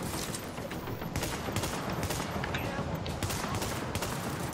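Gunfire aimed at snipers in The Division, rapid repeated shots in bursts over a busy combat backdrop, with voices talking in places.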